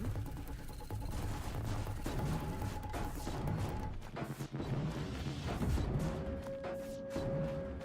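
Enemy gunfire in Horizon Zero Dawn: the Frozen Wilds, a fairly faint, continuous fusillade of rapid shots and mechanical clatter with scattered impacts, running steadily throughout with no speech over it.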